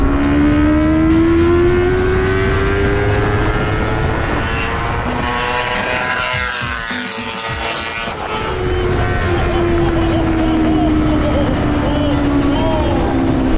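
Cars drag racing, including a Smart car, with loud engines roaring and revving close by, rising in pitch as they accelerate, dipping briefly mid-run, then surging again with another high whine.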